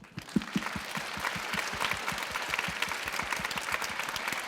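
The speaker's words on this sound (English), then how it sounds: "So let's give them some basic applause" An audience at a 2016 high school English drama final in Ibaraki applauds the organizers, with many hands clapping in a steady, fairly distinct rhythm throughout, moderately loud, with no voices.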